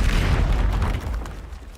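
A Confringo blasting spell explodes in the video game Hogwarts Legacy: a single loud, close boom with a heavy low-end thump that decays over about a second and a half.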